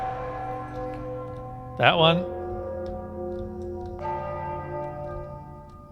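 A bell peals in the video game Enderal, a bright metallic strike with a long, ringing hum that sustains and is struck again a couple of seconds later, while someone says a couple of words nearby.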